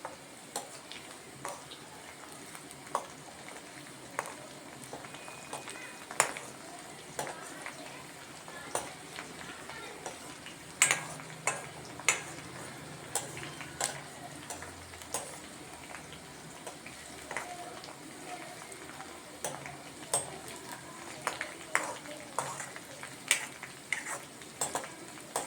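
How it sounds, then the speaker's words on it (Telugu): Cluster beans (gokarkaya) frying in a pan, a soft continuous sizzle with frequent sharp clicks and scrapes of a spoon stirring against the pan, quiet and close. "కొంచెం ఎర్రగా వేగిన తర్వాత"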